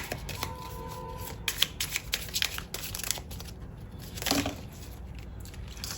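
A deck of cards being reshuffled by hand, a run of riffling, flicking card noise with a few sharper slaps and crinkles, close and fairly quiet, with no talking.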